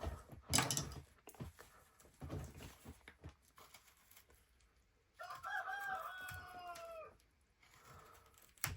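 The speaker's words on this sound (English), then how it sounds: "my rooster starts to make his little sounds right when I'm starting to film a video." A rooster crows faintly in the distance, a drawn-out call over a few seconds, amid quiet rustling and handling noises nearby.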